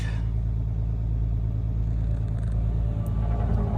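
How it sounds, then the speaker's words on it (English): A hotshot truck's engine idles with its idle raised on a freezing night beside a turnpike, giving a steady, even low rumble that holds unbroken and fairly loud throughout. "We got the idle bumped up on the truck."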